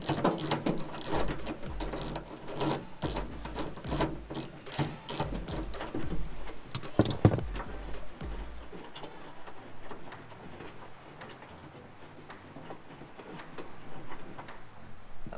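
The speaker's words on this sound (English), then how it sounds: "we'll get our socket out, get those undone" A socket wrench ratchets in quick bursts of rapid clicking while undoing 8mm nuts on a Subaru BRZ boot, close and loud, then fading to quieter handling noises.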